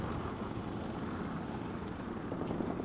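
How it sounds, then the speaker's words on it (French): An attack helicopter in the shooter Insurgency Sandstorm, on a coastline map with U.S. Marines, drones as a dense, continuous rotor and engine roar that holds steady throughout, with no voices over it. "Ok, ça c'est notre hélico, il va nous faire du bien."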